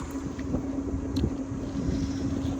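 A boat engine drones at a steady low pitch under wind noise, continuous and fairly close throughout, with no voices, on a boat trip in the Andaman Islands.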